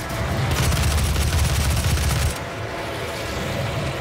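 Rapid, continuous gunfire from a held trigger in the video game Doom, a loud dense stream for about two seconds that cuts off into lingering ambient rumble.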